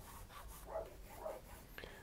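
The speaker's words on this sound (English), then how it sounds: "I have to apologise for my little Molly barking" A small pet dog named Molly barks a few times from an open studio door on a sunny day, distant and faint, in short bursts spaced about half a second apart.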